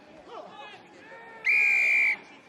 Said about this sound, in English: that is the referee's whistle that denies the David Thomas hat-trick